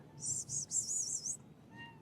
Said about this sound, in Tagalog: may isang pusa pa